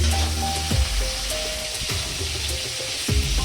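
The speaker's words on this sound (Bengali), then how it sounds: "আলু আর ফুলকপি ভাজা হচ্ছে" Potatoes and cauliflower fry in a pan with a steady hiss and sizzle, broken by a few low knocks and clatters from stirring or the pan, close up with no talking.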